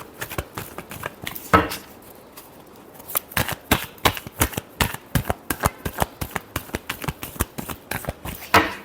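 A deck of tarot cards is shuffled up close, a rapid run of crisp, riffling flicks and slaps in quick bursts, with a brief pause near the start.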